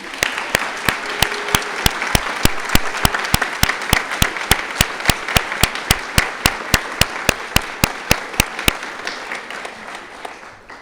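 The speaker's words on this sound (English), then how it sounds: "offer you our congratulations and another round of applause" An awards-ceremony crowd applauds steadily for about nine seconds, a dense wash of clapping with sharp rhythmic claps standing out, then tapering off at the end.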